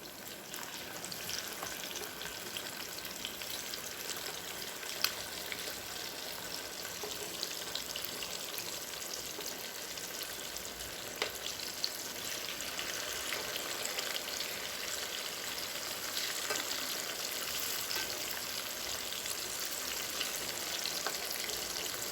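Fish for biryani fries in a pan with a dense, even sizzle that holds steady throughout, close and fairly loud, with a few faint pops and spatters.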